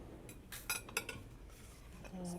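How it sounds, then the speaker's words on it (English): Eggs for shrimp and basil fried rice beaten in a bowl, heard as quick, faint clinking strokes of a utensil against the bowl, close by and brief. "Let me beat my eggs here."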